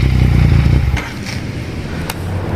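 A 2018 Yamaha XSR 900 with a 900cc three-cylinder CP3 engine idles loudly, then cuts out about a second in, leaving faint mechanical clicks and low background noise.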